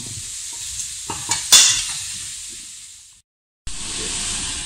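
Courgettes and aubergines frying in a pan for ratatouille while being stirred, a close hissing sizzle with several clattering stirs, then a short silence before the loud sizzle returns.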